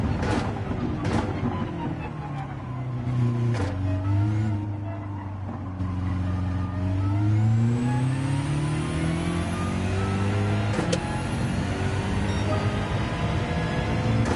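A race car engine in a racing video game revs and drones steadily throughout, with gear changes and rising and falling pitch, loud and close, with no talk over it.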